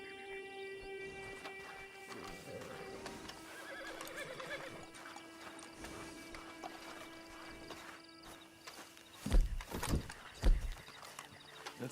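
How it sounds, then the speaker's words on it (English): A horse in the Red Dead Redemption Online video game whinnies and snorts against a steady ambient game backdrop, with a couple of louder hoof or movement bursts near the end. "Then you better get on this horse"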